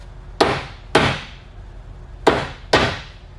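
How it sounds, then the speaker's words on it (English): Thor hammer striking a hard surface, four sharp loud whacks in two pairs, each with a brief ringing decay, fairly close and with no talk. "My Thor hammer."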